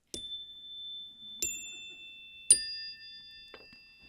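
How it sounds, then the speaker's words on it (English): Chimes struck four times at roughly one-second intervals, each a clear bright ding with a lingering ring, the third strike the loudest, in an otherwise quiet room. "I have brought some chimes"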